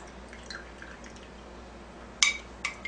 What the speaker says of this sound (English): let these hoses drain back into the sink for about 5 minutes